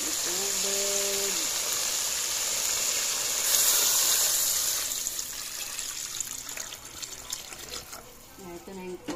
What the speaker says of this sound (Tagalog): Nilagyan ko na ng tubig para may sabaw ang ating sinigang na manok.